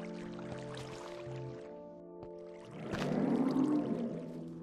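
Water flows in Minecraft, a soft liquid rush that swells louder in the second half over a sustained tonal background music bed.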